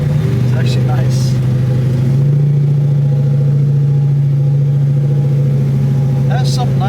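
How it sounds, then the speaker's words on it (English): A car back on the road after a long rebuild rumbles through a 3-inch exhaust, a loud, steady low drone that persists throughout, with brief voices heard over it. "It has some nice rumble on"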